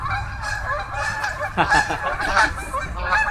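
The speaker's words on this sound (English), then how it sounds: "geese." Several geese honk repeatedly, close by and fairly loud, with overlapping calls bursting out in the second half over a low background rumble.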